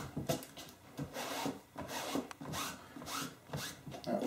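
A damp cloth wipes across an icePad Pro cover in repeated close rasping rubbing strokes, steady and rhythmic, with no talking.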